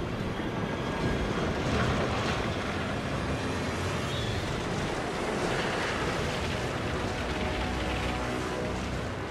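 A tsunami wall of water unleashed by a 9.0 magnitude earthquake, heard as a loud, continuous roar of rushing, crashing surf with heavy wind-like rumble throughout.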